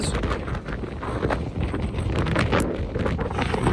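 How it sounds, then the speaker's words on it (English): Strong wind at Devils Tower buffets the microphone with a constant roaring rush, gusting throughout, no voices. "I really can't express to you just how very windy it is."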